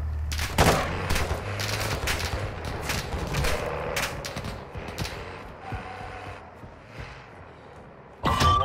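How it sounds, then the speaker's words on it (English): Gunfire in a video game: rapid bursts of shots and an ongoing fusillade crackle loudly at first, thinning to scattered distant reports before a sudden heavy burst at the close. "Taking fire over here!"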